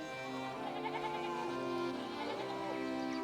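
A goat bleats in the video game Pentiment, a drawn-out wavering cry repeated through the clip over a soft background tone.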